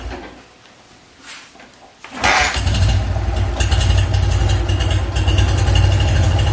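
A BMW R50/2 motorcycle is kick-started: a few soft mechanical clunks from the kick, then the engine catches and settles into a loud, steady idle.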